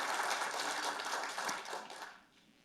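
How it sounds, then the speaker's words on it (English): An audience at a conference on Liberia's economic future applauds a minister, a short burst of scattered clapping that fades out quickly. "So you can applaud him."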